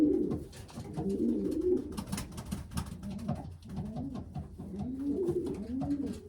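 Young racing pigeon, three months old, cooing in a loft: several rounds of low rolling coos repeat steadily and close, with faint scratchy rustling behind them and no talking.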